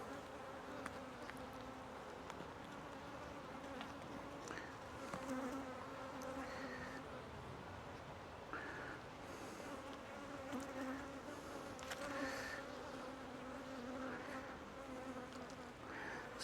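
Honey bees buzz steadily around an open hive frame holding eggs and worker brood, a dense continuous hum with individual bees swelling close to the mic and fading as they pass.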